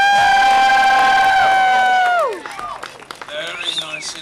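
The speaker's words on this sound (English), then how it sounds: "let's give him a final round of applause. Come on, let's hear it for him!" A Disney park crowd cheers for a Captain Jack Sparrow performer: a long, sustained, whooping cheer gives way to looser, scattered crowd noise and clapping.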